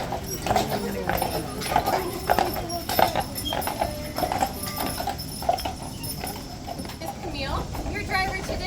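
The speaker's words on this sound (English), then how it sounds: "up in front of us doing all the heavy pulling is a pair of our Percherons" A pair of Percheron draft horses pulls a carriage at a horse park, hooves clip-clopping steadily and fairly close throughout, with a person talking over them.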